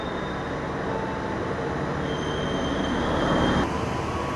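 Serayu long-distance passenger train rolling past with a steady, loud rumble of wheels and carriages that swells near the end, with faint squeal-like tones and no voices.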